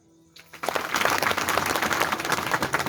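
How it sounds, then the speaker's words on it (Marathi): After a brief quiet start, an audience at a kirtan bursts into loud, sustained clapping, a dense close wash of many hands continuing to the end. "एकदा टाळी वाजवा जोरात"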